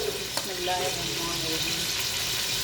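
Onions drop into hot oil for mutton pulao and sizzle loudly and continuously, with a short spoken phrase over the frying.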